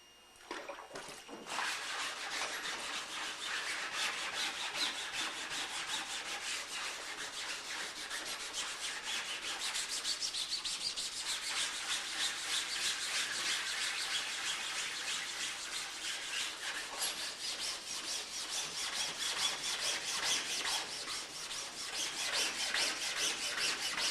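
Sandpaper rubs steadily over the fabric-covered exterior of a 1949 Piper PA-16 Clipper fuselage, a continuous close raspy scratching that swells and eases in long strokes, with no talking.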